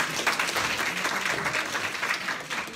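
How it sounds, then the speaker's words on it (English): Loud, close, continuous audience applause at a Deepawali cultural show, thick clapping from many hands with no talk over it. "Give her a round of applause."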